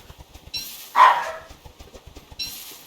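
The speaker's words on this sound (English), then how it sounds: "We're house sitting some dogs and they trigger our dogs to bark." Dogs barking at a house, a short burst of loud nearby barks around the middle, with fainter barks at the start and end over quiet background.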